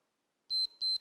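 A workout interval timer gives two short, bright electronic beeps in quick succession after a moment of silence, clear and close with no voices.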